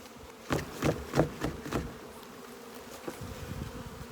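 Honeybees buzz loudly as a bin is shaken into a nucleus hive, with several dull knocks of the shaking near the start over a steady droning hum that continues afterward.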